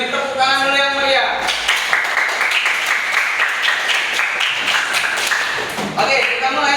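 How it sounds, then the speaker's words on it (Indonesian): Loud burst of applause and clapping from a gathered audience at a school group presentation, a dense crackle of hands lasting several seconds after a brief spoken lead-in, then tapering as a voice resumes. "kita beri tepuk tangan dulu yang meriah"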